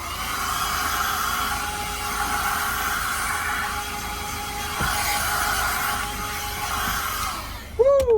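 A hair dryer blows steadily while drying hair at an off-grid mountain campsite in Colorado, a close, continuous whirring hum that cuts off near the end with a brief clatter.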